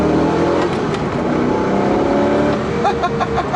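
A Ford GT sports car engine rumbles and revs steadily up close, its deep roar filling the whole stretch, with a sharper rising rev near the end.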